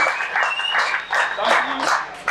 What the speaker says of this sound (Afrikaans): Geef hulle groot hande klap.